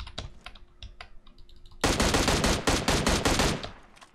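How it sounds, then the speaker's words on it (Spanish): Rapid bursts of automatic gunfire in the battle-royale shooter PUBG Mobile, loud and close, firing in a dense volley of repeated shots after a quieter stretch of faint scattered pops. "hay muchos tiros ahora mismo por aquí fuera"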